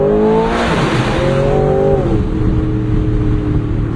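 A 2026 Aston Martin accelerates hard, its engine note climbing through quick upshifts, loud and close from inside the cabin, then settling into a steady powerful drone.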